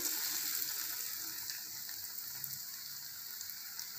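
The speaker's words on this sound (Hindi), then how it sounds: "अब हम इसको उठाते हैं और फ्राई करते हैं" Potato and sauce fritters fry in hot cooking oil, giving a steady, fairly quiet bubbling sizzle that stays even throughout, with no voices over it.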